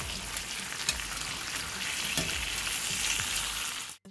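Thick slices of bacon fry in a pan with a continuous close sizzle and scattered sharper pops, a dense steady crackle that cuts off abruptly at the very end.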